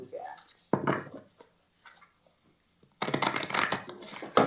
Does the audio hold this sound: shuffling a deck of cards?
yes